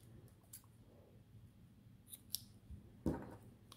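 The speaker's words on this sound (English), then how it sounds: "So we can cut the" Scissors snip through yarn during a crochet project, a few soft metallic clicks and one sharper cut near the end, close and quiet with no talking.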